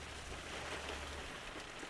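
Rain heard through open windows, a steady faint hiss of falling drops with no distinct pattern, continuous and alone.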